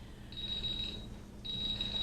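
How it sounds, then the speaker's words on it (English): A kitchen timer goes off beside a pressure cooker while cannabis olive oil is being made, giving two faint, thin electronic beeps separated by a brief pause, heard over low room noise. "Oh, Warren, the timer's gone off."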